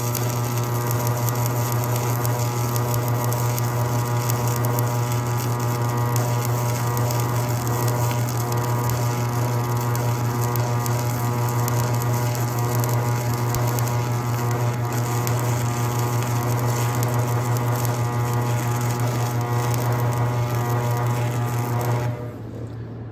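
A welder running at low amperage gives off a loud, steady electrical hum with a buzzy overtone that holds unbroken for about twenty-two seconds, then drops away abruptly at the end.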